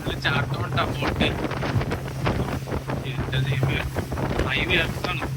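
A tour boat speeds through the mangroves of Kilim Geoforest Park in Langkawi, with engine rumble and heavy wind buffeting the microphone, while people talk over it throughout.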